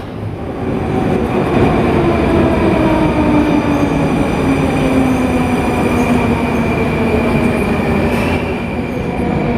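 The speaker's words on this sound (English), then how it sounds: "the train just pulls in and everybody gets on and off at the station here" A Moscow Metro train rumbles steadily as it pulls in alongside a platform, with a faint rising whine from wheels and motors throughout, loud and close, no voices.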